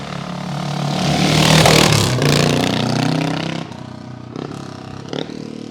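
A 1970 Triumph TR25W Trophy 250 motorcycle engine revs hard and close, its rough note climbing and then falling away before settling into a quieter, clattering run with a few sharp blips.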